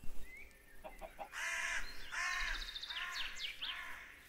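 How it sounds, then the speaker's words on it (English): Minecraft chicken clucks and squawks in a run of quiet, repeated calls with a short click before them, no talk over them. "And there's a chicken."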